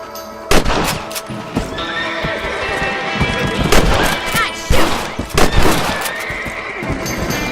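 Sharp rifle cracks ring out in Red Dead Redemption as rabbits are shot, several loud reports spread across the scene, mixed with horse whinnies, hoof clip-clop and brief character voices.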